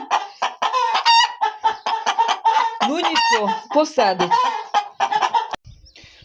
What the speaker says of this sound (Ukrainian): одна то ще й не квочка, бо кричить дуже, то це ще, мабуть, курка